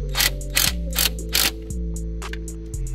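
Ratchet tightening an intake clamp on an F22 Honda Accord, a close series of crisp clicking bursts in a steady rhythm over a low engine idle hum.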